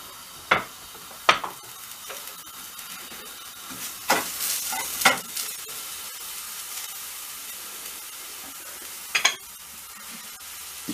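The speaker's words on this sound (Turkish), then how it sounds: "Ufak ufak doğradığımız bir orta boy soğanı kavuracağız." Chopped medium onion sautéing in oil in a frying pan gives a soft, steady sizzle, broken by several sharp scrapes and clatters of stirring, with no one talking.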